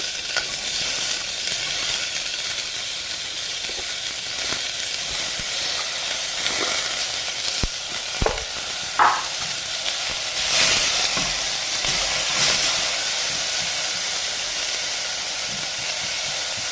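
Chopped onions and green chillies fry in a pan for a puri masala, giving a steady close sizzle and hiss with occasional stirring clatters.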